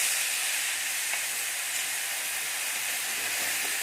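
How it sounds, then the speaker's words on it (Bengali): Whole spices, including radhuni, cumin and bay leaf, sizzle with masala in hot oil as a steady, even hiss that carries on without a break, with faint pops now and then and no voices. "এখানে রাঁধুনি ফোড়ন, জিরে আর তেজপাতা দিয়ে দিলাম। এখানে মশলাটা দিয়ে তেলের মধ্যে দিয়ে দিলাম।"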